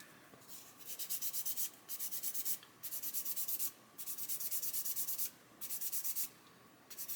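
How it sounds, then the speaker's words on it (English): A 400 grit sanding stick rasps back and forth on a plastic model chassis rail in quick, even bursts of short strokes, close and soft, with brief pauses between bursts. "sand away there. And this is a 400 grit stick"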